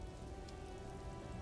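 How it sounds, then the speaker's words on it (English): Steady rain falls in a video game, a soft, even hiss of drops on a surface that runs faint and unbroken throughout with no voices. "It's raining."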